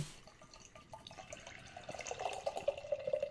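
Fat Pug Oatmeal Milk Stout from Maplewood Brewing in Chicago is poured into a glass, a soft liquid trickle that swells into a louder, bubbly gurgle toward the end, close by with no talking.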